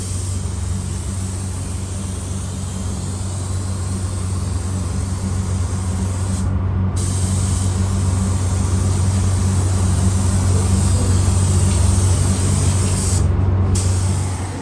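A spray gun lays clear coat over metal-flake paint on a truck, a continuous loud airy hiss with a steady low hum beneath, broken by two brief pauses where the trigger lets off.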